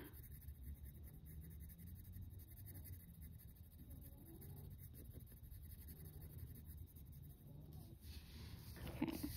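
Coloured pencil shading on standard printer paper, a continuous soft scratchy scribbling of lead over the sheet, close and quiet against a faint background hum.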